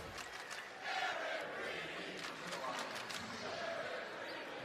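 Home crowd at a UCLA men's basketball game against Nebraska cheering loudly in the arena, a sustained roar that swells after the first second with scattered shouts on top.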